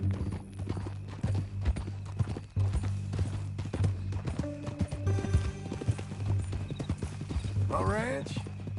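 Steady clip-clop of horse hooves walking in Red Dead Redemption 2, with a horse neighing near the end and a low mechanical hum beneath.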